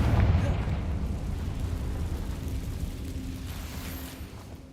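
A Confringo fire curse explodes in the Hogwarts Legacy video game, a loud, sustained rumbling blast that roars at the start and rolls on steadily, with voices faintly mixed in beneath it.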